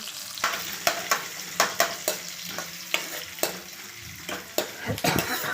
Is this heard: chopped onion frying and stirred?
yes